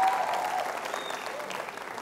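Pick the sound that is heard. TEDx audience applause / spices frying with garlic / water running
TEDx audience applause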